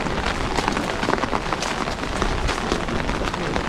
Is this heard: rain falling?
yes